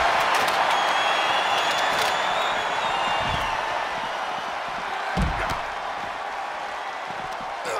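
A broad, steady roar of a large crowd in the WWE 2K24 wrestling video game fills the whole stretch, with a couple of dull thuds breaking through partway.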